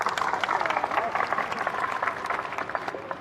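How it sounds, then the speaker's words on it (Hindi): Audience at an outdoor rally and protest in Bhopal clapping together, a dense sustained patter of many hands at moderate distance, steady throughout with crowd murmur mixed in. "इन भाइयों के लिए, इन बहनों के लिए ताली बजाएगा मंच"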